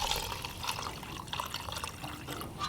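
Orange oil trickles and pours into a half-cup measure, a steady close liquid stream with small splashes running throughout without a pause.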